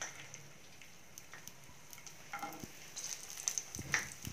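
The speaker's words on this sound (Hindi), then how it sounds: "तेल गर्म होने के साथ ही इसमें डालेंगे करीब हम 10 से 12 लहसुन की कलियां" Ten to twelve garlic cloves fry in about a tablespoon of hot oil in a pan, with a soft sizzle and crackle. It starts faint and grows livelier, with scattered pops and spatters and no voice.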